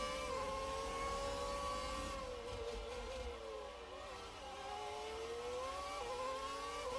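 A Ferrari 641 Formula One car in F1 2019, its engine a steady high-pitched whine that sustains and shifts pitch slightly as it runs, close and continuous throughout.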